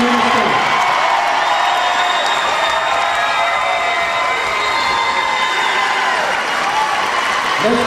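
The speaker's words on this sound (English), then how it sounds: "Let's give all of our outstanding student athletes a round of applause." Loud, sustained applause from a large crowd honoring student athletes at a Winona State basketball event fills the space, with scattered cheers and whoops mixed into the steady clapping.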